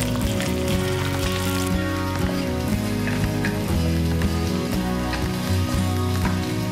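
Eggs scrambling in oil in a hot wok, a continuous close sizzle with faint crackling over steady background music, unbroken throughout.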